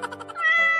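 A single cat meows close by, a short rising cry that stretches out at the end.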